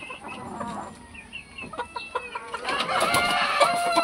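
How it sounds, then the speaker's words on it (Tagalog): Young backyard chicks give high, thin peeping chirps, scattered at first and then denser and busier toward the end, over faint outdoor background noise. "Mga sisiw."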